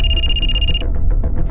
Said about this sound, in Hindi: सर किसी अप्पा का फोन है।